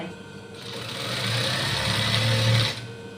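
A sewing machine stitches a bolster pillowcase in a steady mechanical whir, starting after a half-second and running close and loud for about two seconds before stopping.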